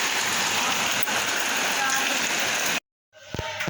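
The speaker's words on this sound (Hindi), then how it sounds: "बारिश थोड़ी सी स्लो हुई है" Heavy monsoon rain pours steadily as a dense, loud hiss from close by, then cuts off abruptly and gives way to a softer, patchier patter of rain and splashing water.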